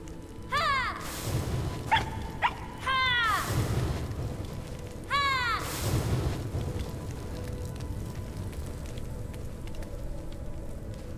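A fox companion in the video game RiME gives several short, high yipping barks in two bursts over a steady rain-like background hiss.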